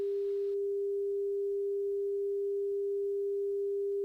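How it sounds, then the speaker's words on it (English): A steady, unbroken aircraft angle of attack warning tone at one slow pitch, sounding alone and clean, with a faint hiss at the very start. "I get a distinct slow tone. Tells me to push my nose down or adjust my power"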